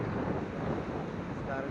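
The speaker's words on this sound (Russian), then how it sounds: "Порывистый ветер." Gusty wind on the stormy Atlantic coast of Tenerife, a steady low roaring rush buffeting the microphone, fairly faint and continuous with no clear speech.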